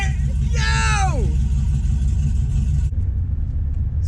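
A Ram 1500 Hemi pickup truck roars hard down a drag strip, its deep, loud engine rumble running steadily throughout, with a brief rising and falling shout-like voice over it early on.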